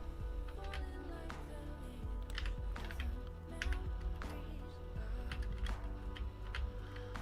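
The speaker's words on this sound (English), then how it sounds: "G521 mechanical gaming keyboard." Typing on a Logitech G521 mechanical gaming keyboard, a dense run of close key clicks and clacks in irregular rhythm over a steady low hum from a home PC setup.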